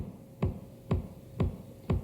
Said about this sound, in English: big bass drum, and it sounds something like this.